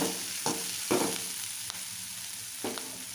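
Ginger and garlic fry in a hot pan, giving a continuous crackling sizzle broken by several louder scraping bursts as the mixture is stirred, with no talking.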